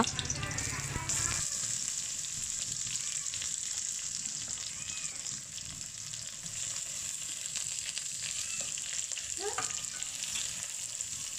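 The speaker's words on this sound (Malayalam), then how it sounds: "ശേഷം സവാള ഒന്ന് വഴറ്റി കൊടുക്കുക." Sliced onion sautés in a hot pan with ginger and garlic during a clam fry preparation, giving a steady close sizzle that runs throughout with occasional faint stirring scrapes.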